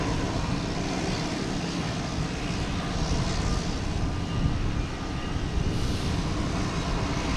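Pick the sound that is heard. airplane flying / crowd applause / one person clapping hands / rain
airplane flying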